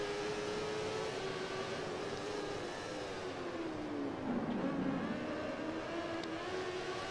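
Moto2 racing motorcycles in the MotoGP 15 video game at the Catalunya circuit drone steadily at high revs, the engine pitch dipping and climbing as the bikes brake and accelerate through corners, with no talk.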